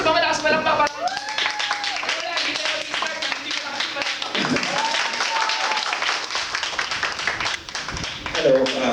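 Loud clapping from a church Christmas celebration audience, dense rapid hand claps mixed with voices talking and calling out over them.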